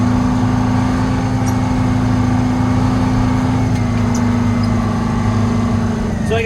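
Detroit 8V71 two-stroke diesel truck engine with a 13-speed transmission, running steadily and loud with a constant low drone and a clear pitched hum throughout, close up.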